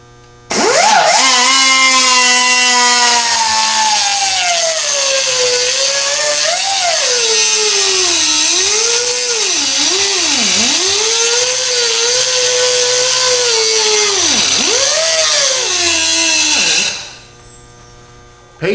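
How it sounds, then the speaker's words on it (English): A power tool whines loudly while cutting at an angle through half-inch hardened steel on a truck's rear axle, its pitch sagging and recovering under load in several dips before it winds down and stops. "you're cutting down through about a ½ inch of hardened steel, so don't try to push too hard into your tool"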